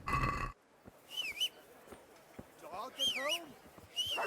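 Horse hooves clip-clop in steady rhythm in the medieval video game Kingdom Come: Deliverance, mixed with whistling birdsong and a brief burst of game sound at the start.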